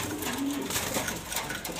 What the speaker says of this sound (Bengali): এই যে দুইটা কবুতর আছে